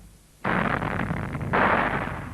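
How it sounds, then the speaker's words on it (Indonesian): A sudden heavy explosive blast of rock in an underground mine erupts, followed by a long rumbling roar that swells again before fading, loud with no voices. "Kemudian bagian-bagian yang mengandung biji diledakkan."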